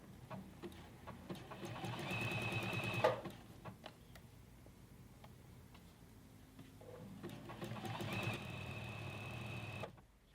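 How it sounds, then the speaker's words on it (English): A sewing machine runs a stretch stitch on fabric in two bursts of rapid mechanical ticking and whirring, separated by a short pause near the middle, heard close and alone in a quiet room. "I've selected a stretch stitch on my machine"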